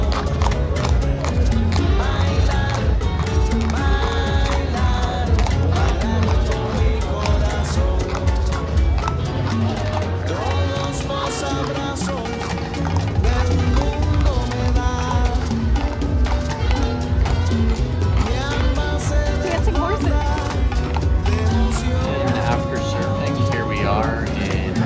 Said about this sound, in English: Turns out horseback riding is a big thing around here.